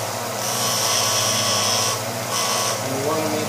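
A drill bit flute being ground down on a powered grinding tool: a loud, close, steady whine with a brief dip in pitch midway and a faint voice underneath.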